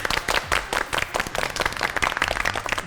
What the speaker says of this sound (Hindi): एक दफा अपने लिए तालियां बजा दें।